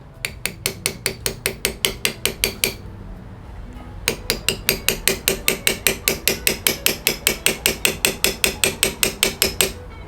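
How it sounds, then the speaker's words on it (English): Light, evenly spaced taps of a cross peen hammer with a polished end on a Japanese kanna plane blade, about thirty crisp metallic strikes in a steady run with a brief pause partway through. "I'm just going to make light taps"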